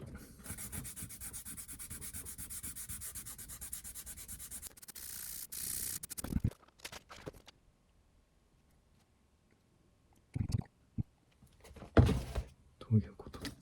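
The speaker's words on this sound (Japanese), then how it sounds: "サンドペーパーをかける。" Sandpaper being rubbed on cork for a saxophone neck during restoration, heard as a long run of fast, even, close scratching strokes, then silence and a few short bursts of rubbing and handling.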